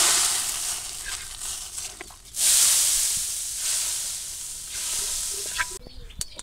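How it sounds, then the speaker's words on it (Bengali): Chopped onion and garlic hit hot oil for a tempering in a village kitchen, giving a loud, steady sizzle with surges of hissing as the pan is stirred. "বাগার দিয়ে নেব।"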